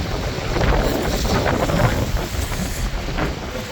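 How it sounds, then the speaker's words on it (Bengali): Strong, cold wind in East London, South Africa, during heavy rain and thick cloud, roaring and buffeting steadily against the microphone as a constant loud rush with no voices. "এখানে এখন ঠান্ডাও পড়তেছে, প্রচুর ঠান্ডা বাতাস,"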